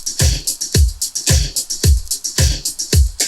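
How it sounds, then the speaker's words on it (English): A drum loop with programmed drums layered with acoustic drums plays in a steady groove, deep punchy kicks and crisp snare and cymbal hits, with guitars blended in, loud and upfront with no voices. "we added some more guitars and also layered the drums with some more acoustic drums"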